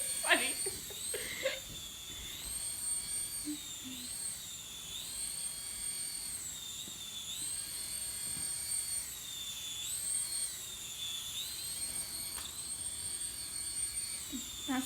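A Harry Potter Golden Snitch toy helicopter flies nearby with a thin, high whine that rises and falls as it moves, while people talk and laugh faintly in the background.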